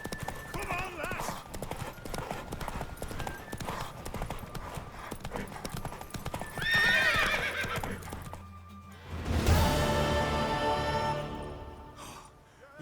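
Hoofbeats of a mare galloping in The Witcher 3 pound steadily throughout, with a loud whinny bursting out near the end, all under continuous excited speech from riders urging her on.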